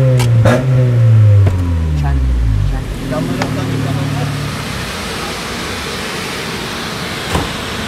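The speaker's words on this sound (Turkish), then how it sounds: "Çok güzel ses çıkıyor, gaza bas." Car engine revving hard in the first few seconds while the car is being washed, loud and close with rising and falling tones, then settling to a lower idle rumble as people talk over it.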